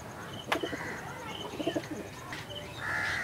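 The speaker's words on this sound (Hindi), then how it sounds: "और ये मादी कबूतर है" A female pigeon of the Madrasi (Chennai) breed coos softly in a loft, with a few short throaty bursts mixed among faint chirps from other birds close by.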